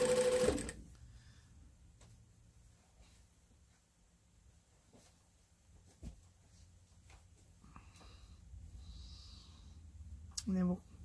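A sewing machine stitches a memory bear in short bursts, running a few stitches, pausing, then running again, with a close, soft mechanical whir and quiet handling noises between runs.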